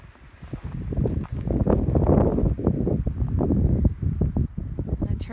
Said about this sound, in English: that wind just blew straight across any snow as it was falling, and it's still brutal